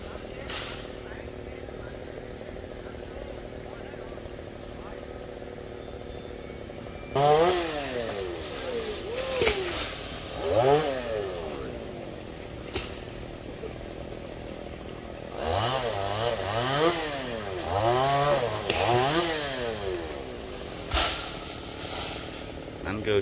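Chainsaw cutting a golden oak tree beside a fence and power lines, engine idling low and then revving hard in two long bursts of cutting, with people talking in the background.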